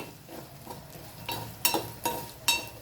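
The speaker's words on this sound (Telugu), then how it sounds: "ఇప్పుడు ఇవి అయితే ఇట్లా వేగితే సరిపోతుంది." Ingredients frying and being stirred in a pan for a chutney, with a soft steady sizzle and several sharp scraping clinks of the spatula against the pan, close and moderately loud.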